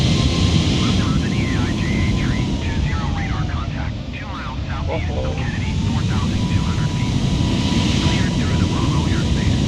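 Airbus A320 airliner engines in Microsoft Flight Simulator 2020, a steady loud roar and hum that dips briefly midway, with people talking over it.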